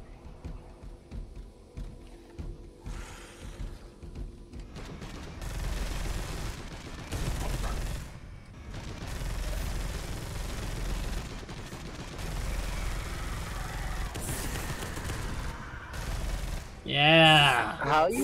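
Rapid assault cannon gunfire in the video game Space Hulk: Deathwing, a dense, sustained burst of shots mixed with game effects and music under intermittent talking.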